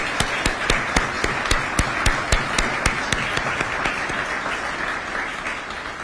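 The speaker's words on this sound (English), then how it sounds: "Can we please give them a round of applause?" Audience applause at the Mayor's Interfaith Prayer Breakfast 2023, a steady room-wide clapping wash with several sharp, loud individual claps standing out near the front, holding evenly for the whole stretch.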